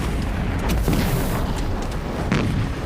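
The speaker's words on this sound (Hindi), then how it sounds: "4 जुलाई 1857 को फिरंगियों ने कोतवाल धन सिंह के गांव पांचाली में तोपे चलवाकर पूरा गांव खत्म कर दिया" Cannons fired on a village in 1857 produce a dense series of dull booms over a continuous rumbling roar, with no voices.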